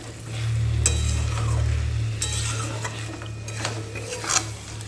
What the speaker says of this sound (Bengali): ভাজা পটলগুলো দিয়ে ভালো করে নাড়াচাড়া একটু করে নিই যাতে পটলের গ্রেভিটা পটলের মধ্যে ঢুকে যায়